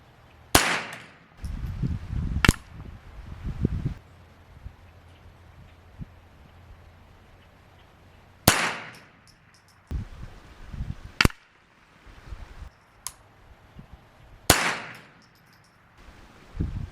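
Sharp rifle shots crack outdoors on a calm day at a scope-level check, four spaced reports with quiet gaps between them, close and loud, with light clatter and rustling in between.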